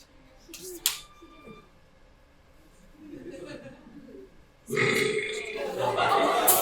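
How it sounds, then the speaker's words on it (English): A single loud, sustained burp on a theatre stage during a live Matilda musical performance, rising suddenly and lasting to the end after quieter stage voices. "It was the biggest burp I'd ever heard."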